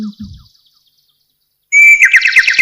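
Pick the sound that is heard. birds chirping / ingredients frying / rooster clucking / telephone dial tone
birds chirping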